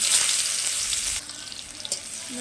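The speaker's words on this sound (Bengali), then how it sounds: "পেঁয়াজগুলি লাল লাল করে ভেজে নেবো" Chopped onions go into hot oil left from frying hilsa fish and sizzle sharply, loud at first and then settling into a quieter crackle over a couple of seconds.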